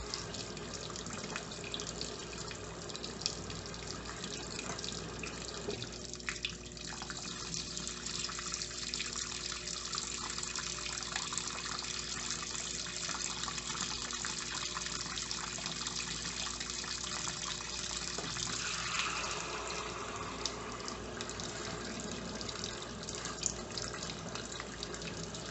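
Electrolux Turbo Economia 9 kg top-load washing machine filling through a small inlet valve, a steady rushing and splashing of water that continues unbroken throughout, fairly faint and with no talk.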